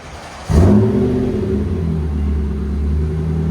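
A 2020 Nissan Armada 5.6L V8 with a Magnaflow true dual exhaust roars up in a sharp rev, then settles into a deep, steady exhaust rumble close by.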